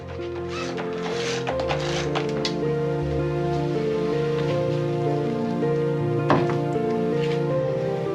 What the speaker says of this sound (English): We can't go out today because it's raining outside.